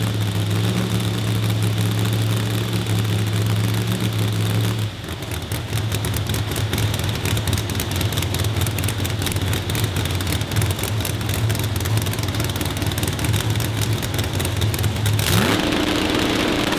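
A drag racing car engine fires up inside a tin shed packed with a crowd, roaring loud and close with a steady rumbling idle that shifts and climbs into revving throughout, with no talk over it.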